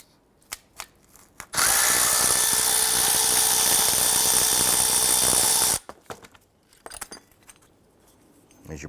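A power tool loosens a 12mm bolt on an alternator bracket for a 2012-2017 Toyota Camry 3.5L, whirring loudly and steadily for about four seconds, with light clinks and tool handling before and after.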